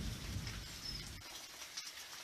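Rain falling at night during a thunderstorm gives a faint, steady patter with some hiss, and a brief lower rumble early on that drops away.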